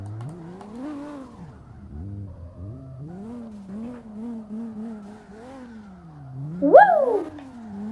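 Engine of a Nissan R34 drift car in the CarX Drift Racing video game, a droning whine that rises and falls with throttle, then a sharp tire squeal near the end. No one speaks.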